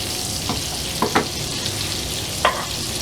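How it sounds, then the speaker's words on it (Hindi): Spices frying in butter for a moong dal tadka give a steady broad sizzle, with a few short scraping stir sounds cutting through near the start, middle and end. "इसको 10 सेकंड तक फ्राई करेंगे ऑयल में, मक्खन में"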